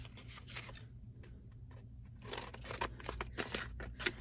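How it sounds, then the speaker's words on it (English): Scissors snip open a small chip-bag style package in a series of close, quiet, crisp cuts and crinkles. "I think I'm going to have to cut it open to see what's inside"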